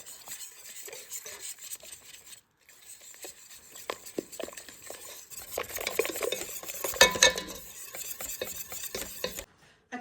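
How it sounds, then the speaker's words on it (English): A whisk stirs Hershey's cocoa into a no-bake cookie mixture in a bowl, making soft rhythmic scraping and clinking against the bowl. The sound starts faint, then grows busier and louder before stopping. No one speaks. "I'm gonna give it a little whisk"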